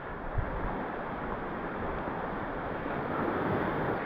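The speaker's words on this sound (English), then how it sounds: "Oh, we have to cross. There's a little river here," A small creek, Buckshot Creek, flows along the Lake Superior Coastal Trail with a steady, even rush of water that stays constant throughout, with no talking.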